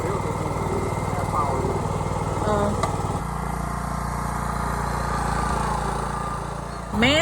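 A small engine drones steadily during a large tree removal job, shifting to a lower, rougher pitch partway through and running close and loud, with brief voices over it.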